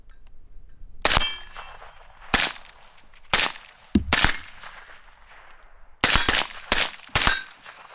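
An AR-15 rifle fires loud, sharp single shots at irregular intervals, about nine in all, each with a short ringing tail and no talking between them.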